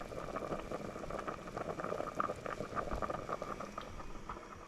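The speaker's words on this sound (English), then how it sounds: "it is boiling now" A pot of beef tongue on the stove at a rolling boil, a soft steady bubbling and popping patter heard close up with no voices.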